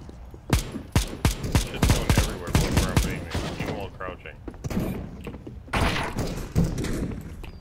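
Rapid gunfire in the battle royale video game PUBG: sharp, loud shots in quick bursts with short pauses between volleys, close by, with a player talking over them.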